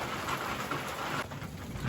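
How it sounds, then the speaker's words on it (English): Steady rain drumming on a tin roof over a workshop during a thunderstorm, a dense, even hiss close by with a brief dip near the end. "I just started hearing all the rain on the tin roof."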